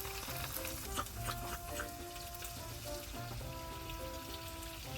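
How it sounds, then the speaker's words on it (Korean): Shrimp fry with garlic in a pan at a cold-weather winter campsite, giving a steady dense sizzle and crackle with faint tonal clinks, moderately quiet and with no talking. "마늘 벌써 익었고 이제 새우 들어갑니다"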